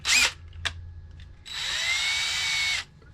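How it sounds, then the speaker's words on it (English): A small 1/16-inch drill bit bores pilot holes in a plastic skeleton bird from a 99-cent store: two brief whirring bursts, then a steady high-pitched power-drill whine lasting over a second, loud and close with no talk. "And we're gonna make two pilot holes. So we're gonna keep this drill bit."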